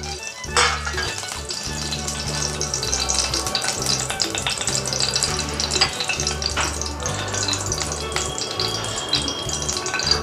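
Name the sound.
bay leaf sizzling in hot oil and ghee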